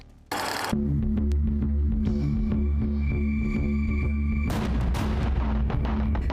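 A sharp, loud blast erupts at the start in Khmelnytskyi region, Ukraine, followed by a sustained roaring rumble with a deep low hum that carries on throughout.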